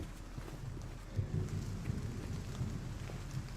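Steady rain falling outside a hospital building at night, a soft continuous wash with occasional louder patter, no voices.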